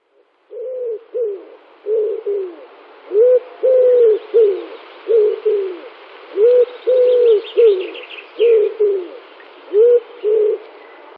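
Doves or pigeons coo close by in clear, repeated two- and three-note phrases with short pauses between, steady and loud with no talking.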